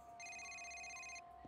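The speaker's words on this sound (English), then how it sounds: "getting a call himself. Yeah, let's answer it." Ringing telephone from the video game Yakuza Kiwami, a single electronic ring tone burst lasting about a second, clear and steady over a quiet background.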